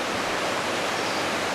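The Smith River runs high after rain, giving a continuous dense rushing roar of fast water, steady and broadband with no pauses.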